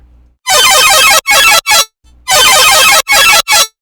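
Bright, buzzy synth chords processed with a resonator and ring modulator, with a metallic, ringing shimmer, play in short bursts, two long stabs followed by quick choppy hits, repeated twice.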